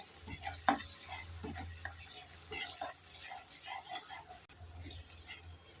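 Turmeric, chili and cumin powders are stirred in a hot oiled pan for a Bengali cabbage kofta curry. Soft sizzling runs throughout, broken by scraping strokes of a spoon against the pan.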